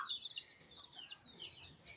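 Chickens and chicks cluck and chirp softly in short bursts on a farm, fairly faint, with light outdoor background noise and no talking.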